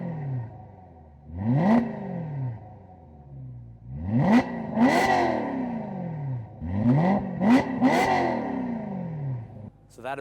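A BMW M3 with its exhaust valves closed revs three or four times in rising and falling sweeps, loud and close, while a voice talks between the pulls.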